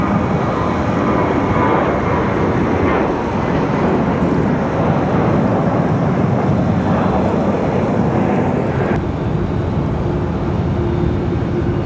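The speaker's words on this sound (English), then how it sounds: "And we've got Alaska. Alaska 12 to San Diego coming up." An Alaska Airlines jet moving near Raleigh-Durham airport, a broad continuous engine roar with a faint shifting whine, fairly loud and steady, with wind buffeting and no talk.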